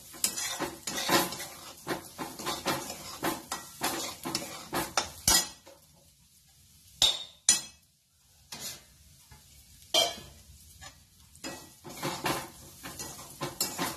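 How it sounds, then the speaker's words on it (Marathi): Semolina dry-roasting in a pan for savory saanza, a spatula scraping and clinking rhythmically against the metal with soft hiss, pausing into near quiet midway before the stirring resumes in short bursts. "आता हा सांजा चांगला भाजून घेऊया।"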